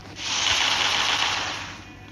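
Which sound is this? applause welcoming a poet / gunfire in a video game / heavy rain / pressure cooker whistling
gunfire in a video game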